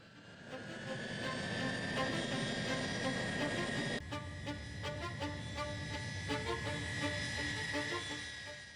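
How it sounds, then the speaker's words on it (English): A heavily loaded Tupolev airliner at night accelerates down the runway for takeoff, a steady, dense jet-engine roar with a sustained high whine, continuous and fairly loud, with a slight shift in character partway through. "At 11 p.m., the Tupolev began accelerating down the runway."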